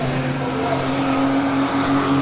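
Porsche race cars, including a white 924, howl past on the Rockingham circuit during a BRSCC race, a steady loud engine drone with a sustained tone rising slightly as cars pass, no talking.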